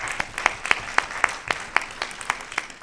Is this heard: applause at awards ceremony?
yes